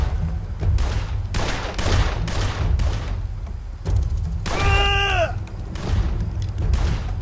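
Repeated gunshots ring out in the noir crime game Blues and Bullets, a series of loud close bursts over a dense, rumbling score, with a brief rising musical sweep partway through.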